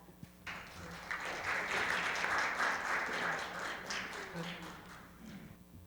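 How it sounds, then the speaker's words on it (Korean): Steady applause from a forum audience welcoming a speaker, a dense wash of many hands clapping that starts abruptly and holds for several seconds before easing slightly. "박수로 맞이해 주시기 바랍니다."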